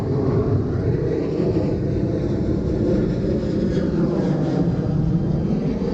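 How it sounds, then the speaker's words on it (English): A steady, loud low roar of an airplane passing overhead, unbroken throughout with no talking. "Well, after this plane leaves."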